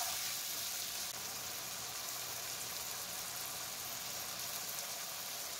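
Small chicken pieces frying over high heat in a pan for sweet and sour chicken, a steady, soft, even sizzle running throughout with no talk.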